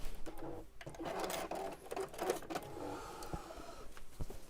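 A domestic sewing machine stitches a fabric seam across and down around a corner, whirring in quick bursts with short pauses, close and fairly quiet.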